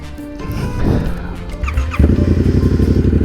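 A Yamaha R7 motorcycle engine fires up with a short whir and then settles into a loud, steady throbbing idle up close.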